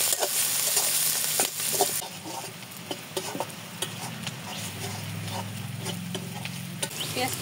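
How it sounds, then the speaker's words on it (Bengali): Onion and green chilies fry in a pan while being stirred, giving a constant close sizzle broken by scraping and stirring strokes, with no talking. "পেঁয়াজটা হালকা ভেজে নিচ্ছি আর এই মশলাটা দিয়ে দিচ্ছি"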